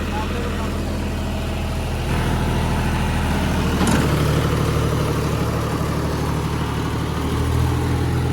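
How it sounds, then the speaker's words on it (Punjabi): A tractor's heavy diesel engine drones steadily, loud and close, pulling a rotavator about 9 feet wide, rising in intensity midway as it works the soil, with a rumbling, grinding undertone. "ਚੱਲ ਰਿਹਾ ਜੀ ਆਰਾਮ ਨਾਲ ਟਰੈਕਟਰ"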